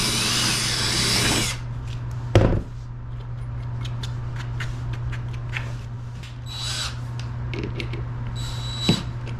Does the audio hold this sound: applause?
no